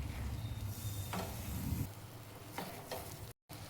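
Grated fresh coconut is stirred into rice batter cooking in a pan for khandvi, giving a soft steady sizzle and scraping close by, alone without talk.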